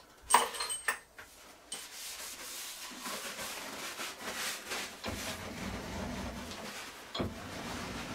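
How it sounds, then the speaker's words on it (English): Rubbing and scraping of cleaning a metal lathe during a steam brake cylinder restoration, with irregular near strokes, occasional knocks and light metallic clinks, and no talk. "Clean the lathe up and then start again."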